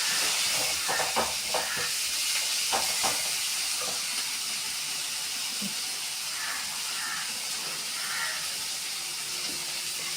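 Capsicum and green chillies sautéing in a pan for vegetable noodles, a steady broad hiss of frying with scattered light clicks of stirring, close and even throughout, no voices.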